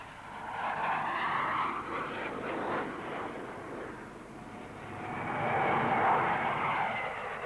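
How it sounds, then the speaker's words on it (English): A DH-125 small twin rear-mounted jet transport flies past at the 1960s Farnborough airshow, a broad roaring jet rush that swells, eases and builds again, moderately distant with no voices. "a small transport aircraft with twin rear-mounted jet engines"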